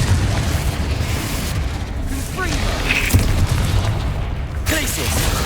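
Confringo fire blast spell exploding in the video game Hogwarts Legacy, a loud booming burst over a constant rumbling game soundscape, with a second blast near the end; someone speaks briefly between them.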